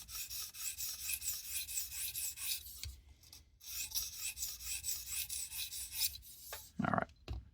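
A knife blade is drawn over a stone on a Tsprof Pioneer guided sharpening system in steady back-and-forth rasping strokes, close and quiet, with brief pauses and a couple of knocks near the end.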